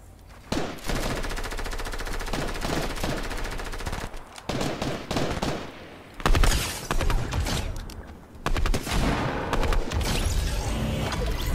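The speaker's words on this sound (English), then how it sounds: "this guy shoots at me" Gunfire in the mobile battle royale Fortnite Mobile, loud rapid automatic bursts broken by short pauses, with a few heavier booms among the shots.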